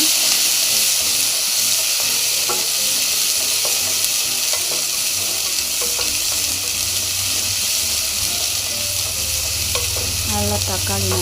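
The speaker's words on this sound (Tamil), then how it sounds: "தக்காளி நல்லா சுருள வதக்கியாச்சு." Tomatoes and golden onions sautéing in a pan for a soya gravy, a loud continuous sizzle with repeated spatula scraping and stirring, close and steady, without speech.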